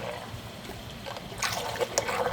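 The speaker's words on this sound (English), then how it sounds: "We got a little fan in there pushing water around." Water in a small indoor grow tank is stirred by a small fan, a soft continuous trickling and gurgling with a few light splashes, heard up close.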